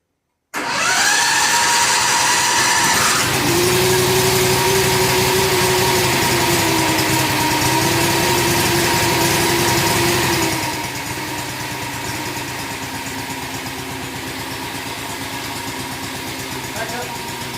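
A Predator 670cc engine in a homemade go-kart pickup truck runs steadily and loudly close by, with a rough, rumbling idle and slight throttle swells before it settles to a somewhat quieter, even run.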